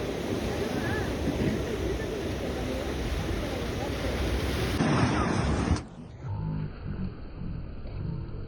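Sea waves on the beach at Pondicherry make a loud, continuous roar mixed with heavy wind buffeting. The sound drops sharply partway through and continues more quietly.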